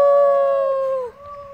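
A child imitates a wolf howl in a long, sustained, clear tone that slowly slides down in pitch, then briefly breaks and resumes, loud and close.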